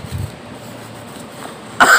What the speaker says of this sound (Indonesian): maaf Lur, batuk-batuk Lur